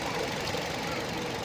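A 2016 Toyota Yaris engine idling, a low steady hum with faint knocking texture, heard close and briefly, without talk.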